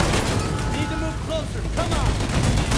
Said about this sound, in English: I'm blowing everything up.